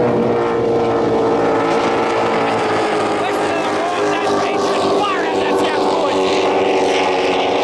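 Powerful offshore racing powerboat engines on Lake Macquarie, Australia, roar steadily with a sustained high-pitched drone, with a voice talking faintly over the racing noise.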